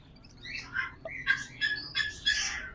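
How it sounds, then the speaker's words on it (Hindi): A breeder pair of ring-necked parakeets calls in a run of sharp, squawking chirps, loud and close, repeating in quick bursts with no talking. "ये हमारे पास ब्रीडर पेयर आए हैं रिंग नेक के"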